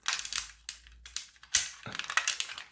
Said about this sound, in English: me breaking the raft away from the